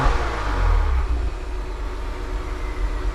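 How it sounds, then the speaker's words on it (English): An Acura TLX Type S turbocharged engine fitted with a PRL high-flow air filter rumbles in a steady low drone with mild swells. It runs alone, with no voices. "I definitely hear that turbo a little bit more."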